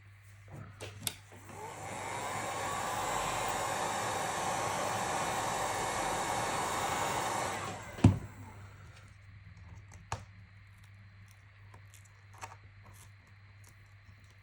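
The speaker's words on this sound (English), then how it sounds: "We've got the hoover on this. So get a lot of this glass out of the way." A hoover sucks up shattered glass from a broken Apple iPad 9th generation screen during a repair: a steady, loud whirring drone for about six seconds, then clicks and taps once it switches off.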